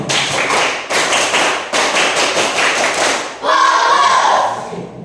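A classroom of students claps a rhythmic tepuk fokus chant, loud patterned bursts of group clapping in short phrases with brief pauses, ending in a noisier cheer-like burst of voices.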